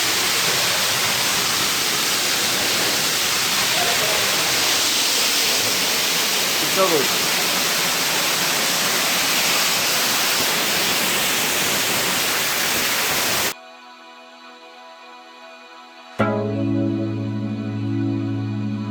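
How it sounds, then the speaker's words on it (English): A waterfall near the Tilkeshwar Mahadev temple in Udaipur roars as a steady, dense rush of water for most of the clip. It cuts off abruptly into music, and a brief spoken remark comes through over the noise. "And that is the waterfall."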